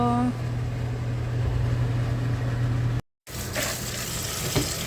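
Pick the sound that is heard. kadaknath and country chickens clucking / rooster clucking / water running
water running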